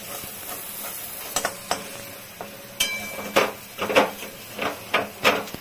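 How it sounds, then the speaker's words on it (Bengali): Masala spices fry in oil in a wok while bhindi masala is cooked, giving a soft, steady sizzle broken by scattered sharp clicks and scraping bursts of stirring toward the end. "মশলাটা ভাজা হয়ে গেছে"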